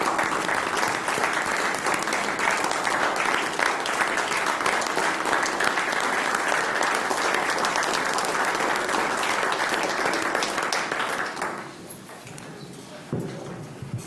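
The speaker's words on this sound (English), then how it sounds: "give her a round of applause because we are going to definitely miss her" A room of board members at a Metro Fire meeting applauds a retiring colleague with steady, dense clapping for about eleven seconds, then it fades quickly into a quieter room with a few lingering claps.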